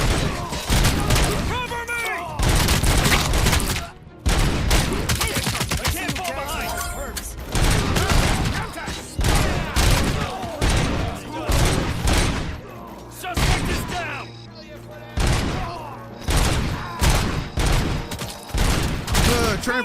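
Dense, loud volleys of gunfire in a RoboCop video game, coming in repeated heavy bursts with brief gaps and thuds between them, while a voice talks over the shooting.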